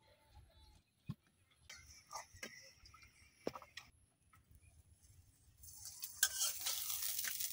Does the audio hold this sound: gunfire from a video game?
no